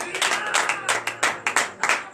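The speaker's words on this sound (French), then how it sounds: "Donnez de vive acclamation à l'Éternel." Members of a congregation at a morning prayer service in Benin clap in acclamation, loud and close, in uneven bursts of rhythmic clapping with voices mixed in.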